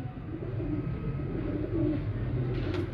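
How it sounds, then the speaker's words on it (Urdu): Breeder pigeons cooing in a loft, soft low repeated coos close by over a steady low background hum, no talk. "دوستو بہت ہی شاندار کبوتر ہیں"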